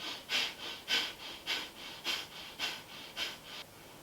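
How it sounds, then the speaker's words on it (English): Yoga breath of fire: eight rapid, sharp nasal breaths in an even pulse about twice a second, close and fairly loud, each a hissy rush of air through the nose. "the breath of fire is a sharp exhale through the nose, followed by a sharp inhale"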